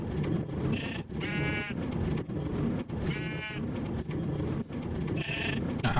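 Sheep in the Minecraft video game bleat several times in short wavering calls, close and clear over steady background game noise, with no one talking.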